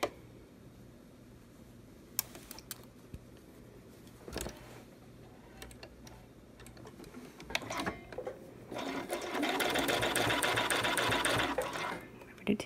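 A sewing machine sews the second side of a fabric gusset seam. Scattered clicks and handling noises come first, then a sustained, close mechanical hum of stitching fills the latter part.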